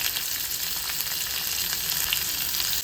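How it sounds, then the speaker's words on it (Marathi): Sliced onions and green chilies fry in oil with an even, continuous hiss of sizzling, close and steady with no voices. "आणि आता तेलावरती छान भाजून घ्यायचं आपल्याला."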